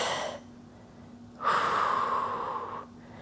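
Deep, breathy exhales during a yoga session: a short breath at the start, then a long, steady breath out of about a second and a half, close and fairly loud, with no talking.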